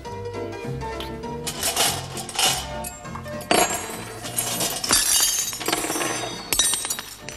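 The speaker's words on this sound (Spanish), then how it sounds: "Es más difícil poner los platos en la mesa." Plates clatter and clink against one another as they are set on a table, a dense run of close, bright ceramic knocks and scrapes with no voices.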